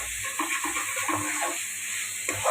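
Chicken coated with salt, chili powder and coriander powder is stirred in a hot pan for a gravy. Close, continuous sizzling runs under repeated scraping strokes of the spoon against the pan.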